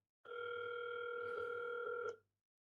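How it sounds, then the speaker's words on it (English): One harsh American telephone ringback tone, a steady buzzing ring lasting about two seconds, then cutting off into silence. "that's playing, ringing on here, playing our ringback tone"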